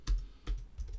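A computer mouse gives a few sharp, close clicks in a quiet room, three quick taps spaced roughly evenly within a second.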